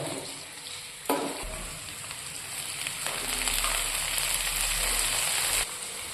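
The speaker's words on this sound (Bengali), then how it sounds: "আর ওইদিকে সব মশলা দেওয়া হচ্ছে। মশলার সাথে মেশানো হচ্ছে।" Spices frying and being stirred in a pan for mixed masala dal, a steady close sizzle with scraping stirs, louder bursts partway through, and no talk.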